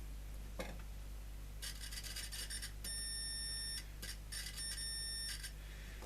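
Multimeter set to continuity beeping while testing a battery charger fuse: a few sharp, steady electronic tones, each lasting about a second, separated by short gaps, fairly close and clear over low background hum.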